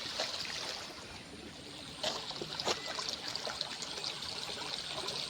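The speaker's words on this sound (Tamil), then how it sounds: "இந்த பாலம் தண்ணி ஒழுதுகிட்டே தான் இருக்குது." Canal water trickling and flowing steadily beneath a bridge near a river, a soft continuous wash at moderate distance with a couple of brief splashy surges, no voices.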